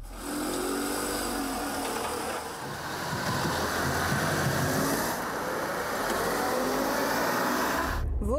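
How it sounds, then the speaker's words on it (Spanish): A fully loaded Renault Twingo accelerates, its engine straining as the pitch climbs, heard from inside the car over a continuous wash of road and cabin noise. "Con el coche lleno, acelero, hay que bajar de marcha y el motor tarda un poco en responder"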